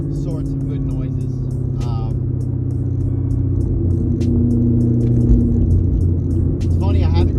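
A Chevrolet Camaro engine rumbling with a deep, steady low burble that swells slightly near the end, close and continuous, with voices talking over it at times.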